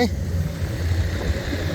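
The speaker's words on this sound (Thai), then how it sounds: "โอ้ รถไถรถไถ" A farm tractor engine at a pond-digging site in Buriram, Thailand, makes a brief, steady, low rumbling drone close by, with no distinct revs.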